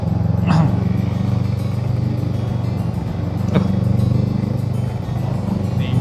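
A Kawasaki Ninja RR 150 motorcycle on a road trip between Lembang and Ciwidey gives a steady, moderately loud engine drone, joined by brief sharper sounds, while people talk nearby.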